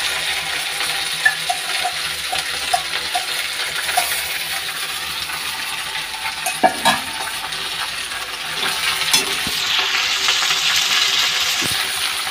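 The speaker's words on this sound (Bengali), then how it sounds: "এই যে পাস্তাটা এখন দিয়ে দিচ্ছি, সুজির পাস্তা, টমেটো সস দিয়ে" Semolina pasta mixed with tomato sauce being added to a pan and cooking, a few small clinks and knocks over a soft sizzling hiss that grows louder toward the end, with no speech.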